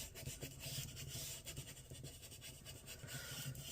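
Paper being burnished down onto a planner page with a soft, continuous rubbing and rasping, quiet and close, in short back-and-forth strokes.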